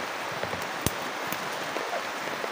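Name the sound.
rain falling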